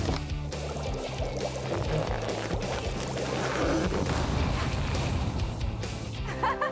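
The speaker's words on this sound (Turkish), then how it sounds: "Biraz su iç Bowser." Water poured for a toy character to drink in a toy play scene, a steady continuous splashing gush with bubbling, fairly loud and close throughout.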